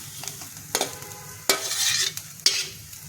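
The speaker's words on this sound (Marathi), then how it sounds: "कांदा भाजून झाला की हे सगळं एकत्र करून परत भाजू आपण थोडंसं" Onion roasting with sesame, poppy seed, coconut and whole spices in a pan, with sharp spatula scrapes at intervals over a soft, continuous sizzle.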